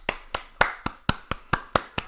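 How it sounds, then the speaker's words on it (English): Nine sharp claps from a single pair of hands, evenly spaced at a brisk steady rhythm, close and dry with silence between each. "Round of applause."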